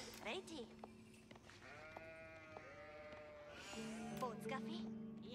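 Sheep bleat repeatedly in Age of Empires 4, quiet wavering calls that overlap one another while a voice talks throughout.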